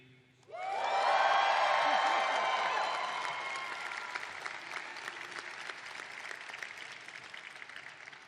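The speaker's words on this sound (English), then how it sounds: "I want you to give them a great big cheer." A large audience at a law school pre-commencement ceremony bursts into loud cheering, whoops and sustained applause that peaks early, then gradually thins into steady scattered clapping.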